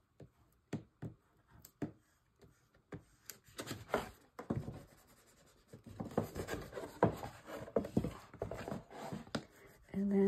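A bone folder rubbed over adhesive tape on a scrapbook folio base, pressing out wrinkles and working into the gussets, giving scattered taps and scraping, rubbing strokes that grow denser and louder toward the end.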